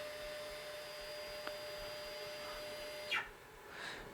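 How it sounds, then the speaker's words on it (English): A Sainsmart Genmitsu PROVerXL 4030 CNC router with a 6060 extension kit jogging along an axis: a faint, steady motor whine and hum with a brief rising sweep near the end, quiet and distant. "So we'll send the machine right,"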